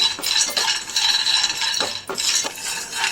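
Peanuts dry-frying in a kadai, with a spoon scraping and clinking against the metal pan in repeated strokes, close up and with no talking.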